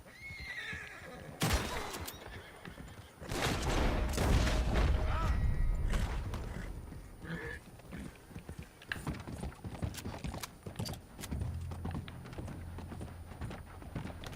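A horse in Red Dead Redemption 2 neighs, then its hooves pound in a fast gallop that fades to a lighter trot, with a low rumble and a brief spoken command mixed in.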